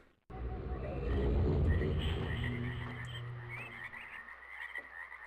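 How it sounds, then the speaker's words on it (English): Frogs croaking in the video game Myst, a loud rising chorus of low croaks with higher chirping calls over it, fading toward the end. "I hear a lot of frogs and birds."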